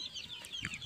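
Backyard free-range chickens clucking softly in a short burst, a couple of faint calls close by with low rustling underneath.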